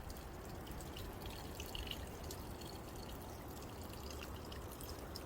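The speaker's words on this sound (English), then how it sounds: "And you can see the water runs" A small stream of water trickles along a hiking trail on the Pacific Crest Trail, a faint continuous burble with light drips, heard at a quiet distance without speech.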